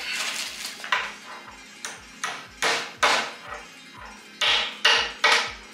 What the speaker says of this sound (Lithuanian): Jos reikės plaktuko pagalbos.